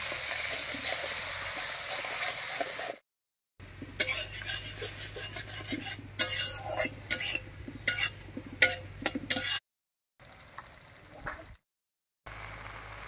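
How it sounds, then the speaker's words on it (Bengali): Spice paste with salt, turmeric and water being stirred and fried in a pan for cabbage curry, a scraping, rasping stir that comes in bursts and is cut by brief silences, close up and without speech. "এবারে মশলা বাটা জল দিয়ে খুব ভালো করে কষিয়ে নেব"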